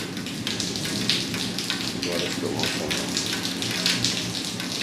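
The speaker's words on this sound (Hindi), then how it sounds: "आज वैसे ही बारिश हो रही है, बड़ा अच्छा मौसम बना हुआ है बाहर।" Rain patters steadily on a surface with soft, irregular drops, a continuous wet hiss with faint sounds in the background.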